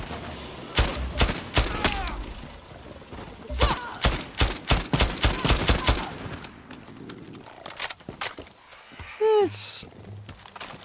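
Weapon gunfire in the video game Far Cry 6 comes as bursts of rapid, loud shots close by, followed by scattered sharper cracks and game effects, with a quieter stretch near the end.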